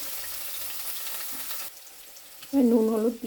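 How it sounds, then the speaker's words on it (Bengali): Cut vegetables with curry leaves frying in oil in a pan, a bright close sizzle for over a second that drops away, then a short clatter and a brief tonal sound near the end. "সবজিটা একটু ভাজা হোক।"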